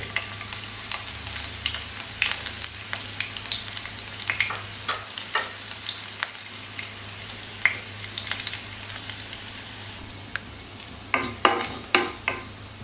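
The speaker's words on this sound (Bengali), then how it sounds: "পেঁয়াজগুলো হালকা করে ভেজে নিয়েছি আমি" Chopped onion frying in hot oil in a pan, a soft steady sizzle with scattered clicks and scrapes of stirring, alone with no talk, for a Bengali ilish head and kochu shak dish.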